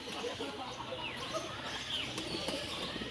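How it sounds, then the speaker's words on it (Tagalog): Birds chirp and call amid a busy, noisy mini zoo aviary in Pugo, La Union, Philippines, with a couple of short whistles rising over steady background din and occasional wing flutters. "Maraming klaseng mga ibon ang nandito."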